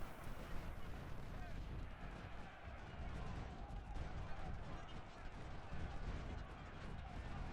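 In an Ultimate General: Civil War battle, artillery and rifle fire aimed at fortifications makes a dense, continuous rumble and crackle with no gaps. It is loud and sustained throughout.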